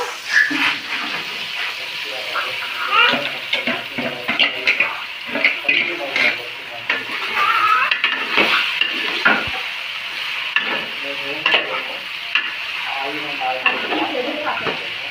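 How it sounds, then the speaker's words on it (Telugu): Small fish dropping into a simmering tamarind curry in a village kitchen, giving a steady bubbling sizzle with stirring and splashing over the whole stretch. "ఇప్పుడు చేపలు వేసుకుంటున్నాను"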